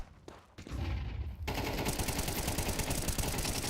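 Rapid automatic gunfire spraying in a Counter-Strike match, starting with a few scattered shots and then breaking into a dense, sustained burst of loud fire for the rest of the stretch, with no voice over it.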